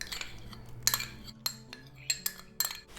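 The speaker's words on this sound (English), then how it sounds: "Add in your 4 tablespoons of coconut oil." Metal spoon clinks and scrapes against a pot as coconut oil is scooped in for a homemade rosemary and rose salve; several sharp, close taps and scrapes at irregular intervals, no talking.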